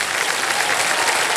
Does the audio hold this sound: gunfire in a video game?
no